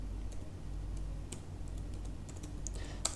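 Quiet, irregular typing on a computer keyboard as a command-line instruction is entered, soft clicks spread across the moment with one sharper tap near the end.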